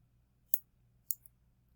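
Computer mouse clicking on a desk, two crisp near clicks about half a second apart followed by a fainter third tap, over a low quiet hum.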